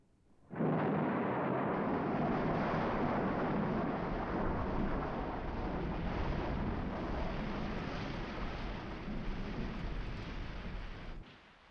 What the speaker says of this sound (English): Oh, dear, it's raining again.